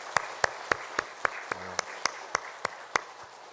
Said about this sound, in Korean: 우리 3사 여전도회 위해서 축복과 격려의 박수로 함께 영광 돌렸으면 좋겠습니다